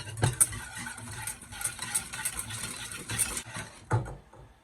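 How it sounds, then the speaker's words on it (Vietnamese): A utensil stirring cocoa into eggs in a bowl, soft steady scraping with a few sharper clinks against the bowl, close and quiet, no talking. "Mình khuấy cho cái phần cacao với trứng này nó tan đều ra."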